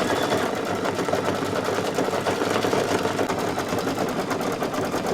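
An embroidery machine stitches the beard, hat band and pom-pom of a Santa table runner, a dense rapid needle chatter running steadily and evenly throughout, close and alone.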